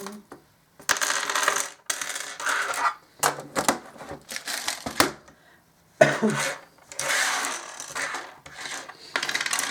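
Small charms rattle and clink inside a box, shaken up close in irregular loud bursts separated by brief silences.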